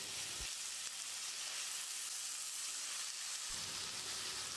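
Diced eggplant dropped into a hot pan sets off a steady, fairly faint sizzle of frying that runs evenly throughout, with a couple of soft thumps near the start and end.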